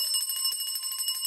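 A bright notification bell rings in quick repeated pulses with a clear metallic tone that sustains for just over a second, with no voices.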